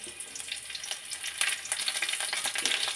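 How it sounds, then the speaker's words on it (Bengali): Chopped onions and green chilies with whole cumin seeds sizzle steadily in hot oil, a bright crackling fry with scraping stir strokes growing louder midway, with no voices. "একটু ভাজি ভাজি করে নিতে হবে"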